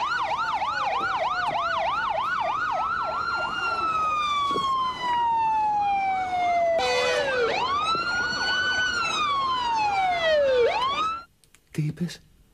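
A fire engine siren wails loud and close, fast rising-and-falling yelps giving way to long slow sweeps that keep cycling, then cutting off abruptly with a few brief knocks after.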